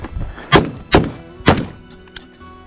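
Gunshots at an outdoor live-fire team drill, three sharp reports in quick succession about half a second apart, each with a short decaying tail, followed by a fainter distant pop.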